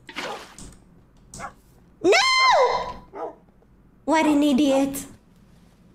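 Dogs in a video game where they are brought along to hunt for diamonds bark and whine in a few loud, tonal bursts, with someone talking excitedly over and between them.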